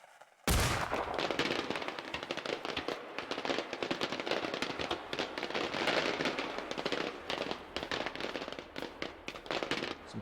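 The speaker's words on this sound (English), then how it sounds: "Some fireworks." A dense, continuous barrage of crackling firework bangs and pops in the video game Generation Zero begins abruptly and keeps going, loud and layered throughout.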